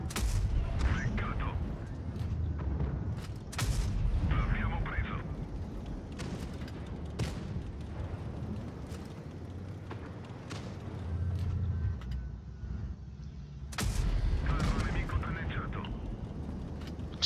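Tank cannon shots in the World of Tanks Blitz video game, a series of deep booming blasts with short bursts, mixed with engine rumble and game noise, some firing close and loud.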